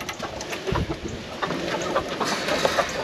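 Chickens clucking inside a coop being winterized for cold weather, a steady murmur of soft, overlapping clucks and calls with no one talking.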